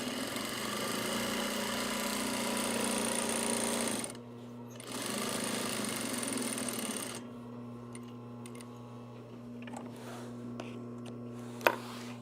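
A sewing machine stitches a fabric shoulder bag in fast, even bursts of humming whir, stopping briefly and resuming, then falling quiet with faint handling clicks and a sharp tap near the end.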